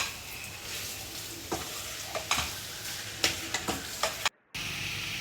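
Chicken gravy masala is stirred in a pan over a continuous hiss of frying. Repeated scraping strokes of the spoon cut through at uneven intervals, close and fairly loud, and the sound briefly cuts out near the end.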